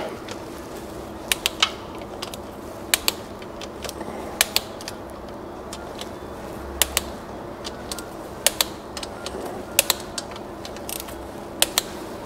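Screws are tightened on the mechatronic unit of a VW Touareg V10's 09D automatic gearbox, giving sparse sharp metallic clicks of a ratchet or tool at irregular intervals over a quiet workshop hum, with no speech.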